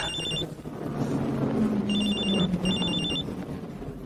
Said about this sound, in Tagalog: Tumatawag si Clarita.